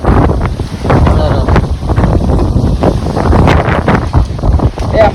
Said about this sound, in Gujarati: બહુ એટલે અતિશય પવન.